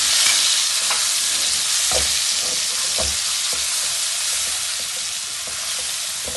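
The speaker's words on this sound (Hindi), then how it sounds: "इनको अच्छी तरह भून लेंगे" Steady close sizzle of onion, garlic, ginger, tomato and green chilies frying in a pan for stuffed masala eggs, with occasional soft scraping knocks of stirring underneath.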